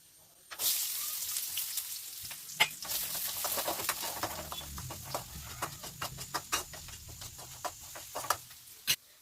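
Onion and curry leaves frying in oil as a tempering for raw jackfruit gojju, a steady moderate sizzle broken by sharp clicks and scrapes of stirring throughout.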